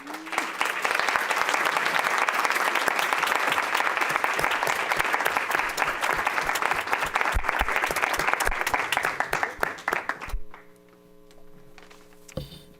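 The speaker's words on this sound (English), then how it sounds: "let us recognize you with a round of applause" Audience applause at a school board meeting, a dense steady round of clapping that runs for about ten seconds and then stops abruptly, leaving a quiet room with faint mains hum.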